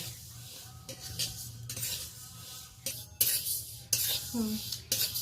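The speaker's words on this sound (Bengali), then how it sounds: "একেবারে শুকনো কড়াইতে নেড়ে নেড়ে মুগের ডালটা ভালো করে ভেজে নেব।" A spoon stirs mung dal as it dry-roasts in an empty wok, making repeated scraping strokes and clinks of metal on metal at an uneven rhythm, close and fairly quiet.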